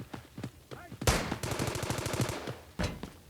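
Automatic gunfire in the mobile shooter game Delta Force Mobile, rapid bursts of close shots with a long sustained burst midway and another at the end, over quiet, intermittent talking.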